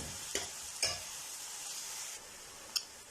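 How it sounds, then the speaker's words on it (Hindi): Onions fry in oil toward light golden, giving a continuous soft sizzle with a few sharp spoon-against-pan clinks and stirring taps, fairly quiet and without talk. "प्याज को हल्का गोल्डन होने तक जो हमने फ्राई करना है"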